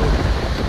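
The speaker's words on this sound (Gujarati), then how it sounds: "અમરેલી જિલ્લામાં આજે સવારથી સાર્વત્રિક વરસાદ વરસી રહ્યો છે" Heavy rain from a general downpour in Amreli district, a dense continuous roar with low rumbling, close and loud throughout.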